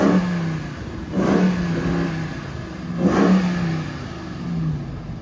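A RAM TRX truck fitted with a Corsa Xtreme exhaust revs hard in two separate bursts. Each one swells into a deep, throaty roar and then falls back to a rumbling idle, heard close up with no talking.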